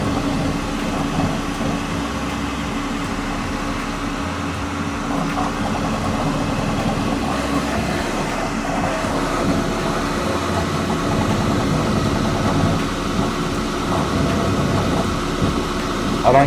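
A fast-running 3D printer making car parts hums and whirs steadily, its motor and fan drone holding even and fairly loud for the whole stretch with no pauses.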